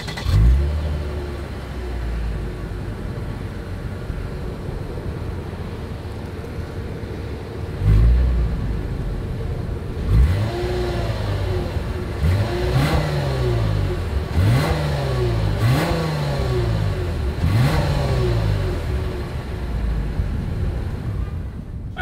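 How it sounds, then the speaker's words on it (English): Lexus IS 300 dual exhaust engine idling steadily, then blipped into a series of sharp, evenly spaced revs with quick rises and falls, loud and close, with no talking. "As always, here is that exhaust clip."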